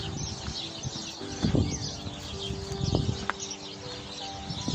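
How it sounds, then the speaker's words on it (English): Birds that may be starlings chirp and call outdoors during a winter walk along a canal near a lock, a busy scatter of short tweets over rustling and faint background noise. "They sound like starlings to me"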